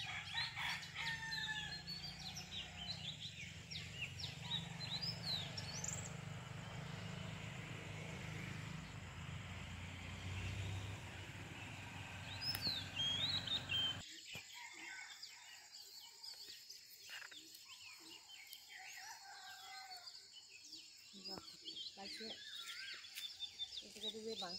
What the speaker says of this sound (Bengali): কত রকমের পাখির ডাক।